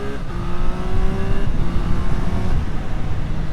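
A Triumph Street Triple 765 RS motorcycle pulls away hard, its engine note climbing steadily and then stepping through a smooth gear change, loud and close under wind rush.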